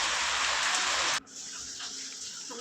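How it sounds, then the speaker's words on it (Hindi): Heavy rain pours down hard and steady, a loud dense hiss that cuts off abruptly partway through, then continues as a softer, lighter wash of falling water. "हमारे यहाँ बहुत जोर की बारिश हो रही है"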